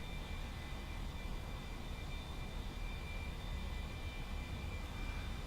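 A-4E-C Skyhawk jet in the DCS flight simulator on its takeoff roll, a steady loud engine roar with a constant high whine running unbroken throughout.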